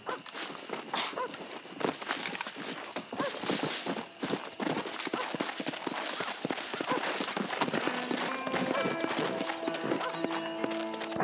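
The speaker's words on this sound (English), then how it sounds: "Let's see if I whistle. Is my horse going to come?" Rhythmic hoofbeats of a horse clip-clopping at a brisk pace in the video game Red Dead Redemption, with a brief whinny and busy background noise.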